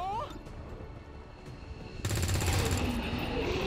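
A soldier in XCOM 2 opens fire with a loud, rapid burst of automatic gunfire that starts suddenly partway through and continues to the end, following quieter game ambience and faint voices.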